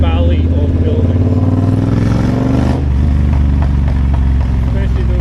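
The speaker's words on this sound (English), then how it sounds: "that sound of bike, the sound of exhaust, and just how much it is echoing around these this valley of buildings" A motorcycle's exhaust booms and echoes between surrounding buildings, a loud, steady engine rumble lasting throughout.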